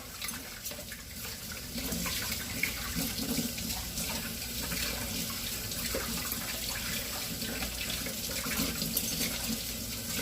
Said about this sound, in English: Just going to rinse out the blade.